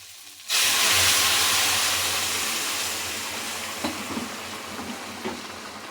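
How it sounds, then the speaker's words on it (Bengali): Hot water poured into a pan of frying vegetables, including peas and pointed gourd, sets off a sudden loud hiss and steamy roar that slowly fades, with a few soft bubbling pops near the end, heard up close. "এবার আমি দিয়ে দেবো এর মধ্যে গরম জল"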